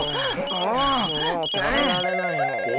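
A house telephone rings with a steady electronic warble that repeats in short bursts, close and fairly loud, while a voice talks over much of it.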